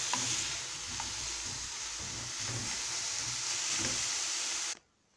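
Onions fry in a pan with a steady, soft sizzle and hiss and faint stirring scrapes, running evenly for about five seconds before cutting off abruptly.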